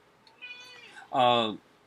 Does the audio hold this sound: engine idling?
no